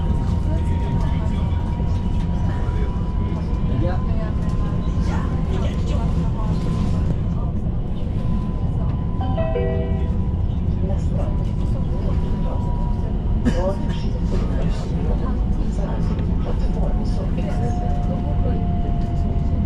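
Interior rumble of a Stockholm tram in motion, a steady low drone with rattles and faint squeals running throughout, with people talking over it.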